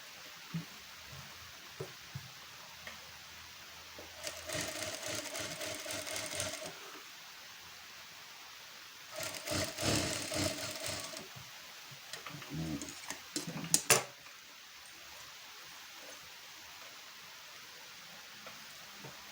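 A sewing machine stitching a square blouse neckline in three separate runs of rapid mechanical whirring and clatter, close up, with quiet pauses and small clicks between them.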